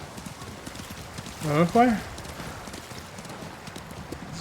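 A horse in a video game trots with a steady clip-clop of hooves, and a brief louder burst that may be a whinny comes midway. Someone talks over it throughout.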